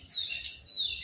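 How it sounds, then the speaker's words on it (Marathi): A couple of high, thin sparrow chirps, faint and slightly distant, on a terrace over a quiet background. "चिमण्या ओरडत आहेत"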